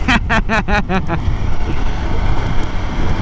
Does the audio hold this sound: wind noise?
yes